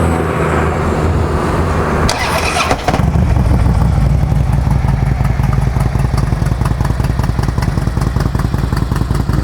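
Harley-Davidson Screamin' Eagle Ultra Classic fires up with a brief starter clatter, then settles into a loud, close, lumpy V-twin idle with an even, rapid pulsing beat.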